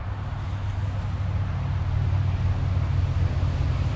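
Steady road traffic noise, a continuous low rumble with a broad hiss that holds constant throughout, without voices.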